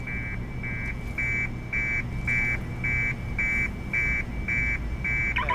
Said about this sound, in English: Something's triggered an alarm.